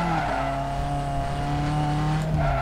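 A Honda Civic with a VTEC engine races in the game Need for Speed, the engine droning loud and high while tires squeal continuously through a skid.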